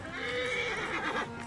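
Horses whinnying in the video game Assassin's Creed Origins, a clear, fairly close neigh with a shaky trailing whinny and faint hoof clops underneath.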